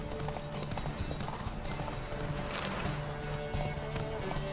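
Horse galloping in The Witcher 3, with rapid rhythmic clip-clop hoofbeats running continuously under game ambience, moderately loud and steady throughout.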